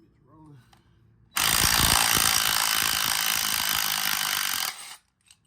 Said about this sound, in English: I'm gonna use an impact, 16mm socket, and you definitely gotta hold this bitch tight